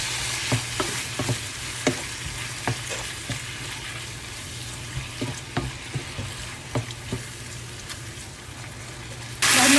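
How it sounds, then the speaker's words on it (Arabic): Chicken frying in a pan with lemon juice and a spoonful of yogurt, sizzling steadily while a spoon stirs it in regular scraping strokes. The sound is close and moderate in volume, with a louder burst of sizzle at the very end. "وراح نقلب المكونات سوا لحد ما يستوي عندي الدجاج ويتحمر"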